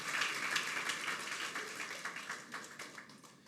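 A congregation claps during a Sunday evening church celebration, a steady wash of many hands applauding together, fairly faint and reverberant throughout.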